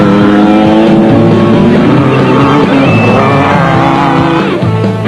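A 1998 off-road race car, a mag missing one wheel, drives toward the finish at the Barberspan off-road race in South Africa. The engine roars loud and close with shifting revs, and rough grinding and scraping run through the whole clip.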